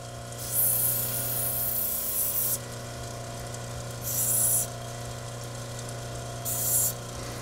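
An opalite stone, a man-made glass, ground on a wheel to form an edge: three bursts of hissing, scraping abrasion over a steady motor hum, each lasting a second or two, close by.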